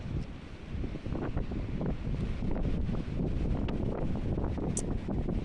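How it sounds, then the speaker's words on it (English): Steady gusty wind buffeting the microphone while cycling around a seafront corner, a loud, continuous low roar and rustle throughout with no talking. "Might be a bit of wind going around this corner."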